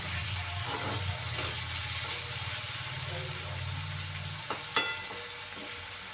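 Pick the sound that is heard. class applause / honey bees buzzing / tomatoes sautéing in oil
tomatoes sautéing in oil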